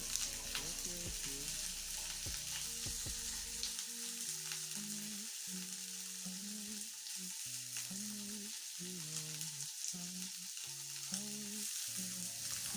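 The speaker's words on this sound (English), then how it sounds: "we are going to let the pork cubes to seal so that we can retain the moisture in the meat" Pork cubes searing in a pan give a faint, continuous sizzle, with a few short crackles early on and a tonal, melodic sound from somewhere else running underneath most of the time.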